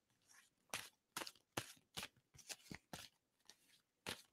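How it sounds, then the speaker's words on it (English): Playing cards being shuffled close up in a quiet room, with about ten sharp riffling bursts in an uneven rhythm and short pauses between them. "And so I'm going to stop shuffling on that."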